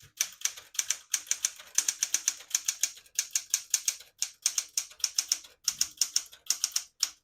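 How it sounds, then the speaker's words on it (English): A 1969 Smith-Corona Classic 12 portable typewriter types a line in red ribbon, giving quick bursts of crisp, close key strikes in an uneven typing rhythm, with no one talking. "I'll type a sentence in red on the next line."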